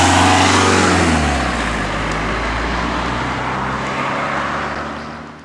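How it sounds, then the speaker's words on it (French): A car drives past on a road near a bridge, a loud, close rush and engine rumble that swells and then fades away over several seconds, with no talking. "Voilà la voiture qui passe devant"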